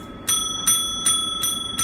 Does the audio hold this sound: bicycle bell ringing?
yes